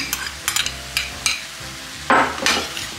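Huitlacoche and diced ham frying in a pan while being stirred, with sizzling throughout and several sharp scrapes and clinks of a utensil against the pan, the loudest burst near the end.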